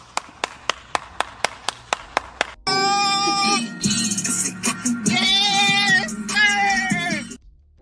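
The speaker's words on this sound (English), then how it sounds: "let me get this nigga a round of applause, man" A short burst of rhythmic clapping, about eight sharp claps in steady succession, then gives way to loud, busy vocal noise and sustained tonal sounds that swamp the rest.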